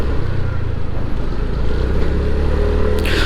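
A 2024 TVS Jupiter 110 BS6 scooter being ridden, its engine a steady low drone blended with wind and road rumble throughout, with a brief brighter rush of noise near the end.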